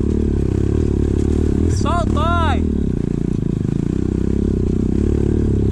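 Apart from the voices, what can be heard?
postal service motorcycle arriving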